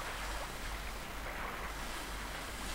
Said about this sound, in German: Man hört auch wirklich nur den Wind.